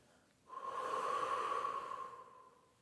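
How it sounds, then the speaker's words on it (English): A person exhales slowly through the mouth during a guided breathing meditation, a soft, steady breath lasting about a second and a half, close and alone with no talk. "Breathe out your mouth."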